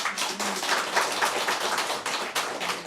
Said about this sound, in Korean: 격려의 박수 한번 드릴까요?